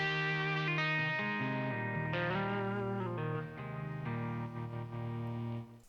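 Electric guitar played through an Origin Effects Deluxe 61 compressor pedal, sustained chords and single notes ringing evenly with smooth, held-down dynamics, alone and close, fading at the end.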